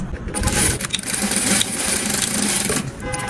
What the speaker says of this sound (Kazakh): Енді бұны бір-біріне бүйтіп тігіп аламыз.